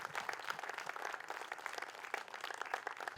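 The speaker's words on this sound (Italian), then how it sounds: "gli fate un grandissimo applauso" Applause from an audience at an outdoor fashion evening in Castiadas, dense steady clapping filling the whole stretch at moderate distance, with no voices over it.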